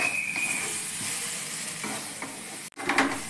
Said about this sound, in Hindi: देखिए अब मसाला भुजाने वाला है